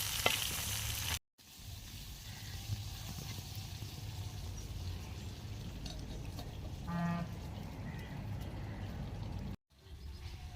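Guava chutney mixture cooks in a covered pan with a faint, steady sizzle and bubbling hiss. The sound cuts out briefly near the start and again near the end.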